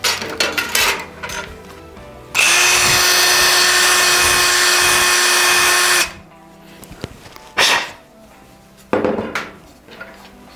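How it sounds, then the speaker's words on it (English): An electric power drill reams out the inside of a fly rod grip, running steadily and loudly for about four seconds. Shorter handling clatters and knocks come before and after. "So I'm gonna take my drill."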